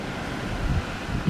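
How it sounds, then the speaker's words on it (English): Strong gusting wind from Hurricane Sally buffets the microphone outdoors as a low, continuous rumble that swells and roars for a moment before settling back. "It's really windy."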